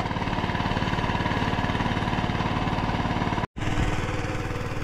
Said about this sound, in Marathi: हे बघा त्याने ट्रॅक्टर मारायला सुरुवात केलेली आहे बघा.